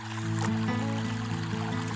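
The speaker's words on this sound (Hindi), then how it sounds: "पानी का साउंड ऐसा लग रहा है किसी ने बनाया हुआ है, इतना मज़े का साउंड लग रहा है।" A shallow stream flows over smooth round stones, a soft continuous trickle and gurgle close by, with a steady low tonal hum running underneath throughout.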